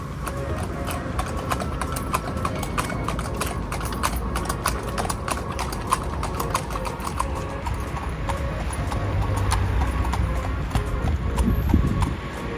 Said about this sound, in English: The horse and buggy ride came to an end and we really enjoyed it.